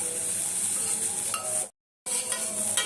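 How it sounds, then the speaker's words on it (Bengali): Vegetables and ground pepper frying lightly in butter in a pan, giving a close, steady crackling sizzle with a few stirring scrapes, broken by a brief silent gap before the sizzle resumes. "সব কিছু মাখনে হালকা ফ্রাই করে নিচ্ছি"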